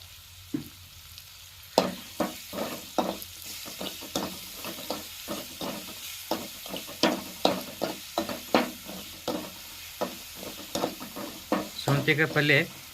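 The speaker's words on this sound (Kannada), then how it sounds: "ಒಂದು ಸ್ವಲ್ಪ ಟೊಮೆಟೊ ಜಲ್ದಿ ಫ್ರೈ ಆಗ್ಬೇಕಾದ್ರೆ ಏನಂತಿರಲಿ ಒಂದು ಸ್ವಲ್ಪ ಉಪ್ಪು ಹಾಕಿದ್ವಿ" Salted tomatoes frying in a pan for a home-cooked curry, a low sizzle under a steady run of sharp spatula scrapes and taps against the pan, ending in a quick flurry of rattling stirs.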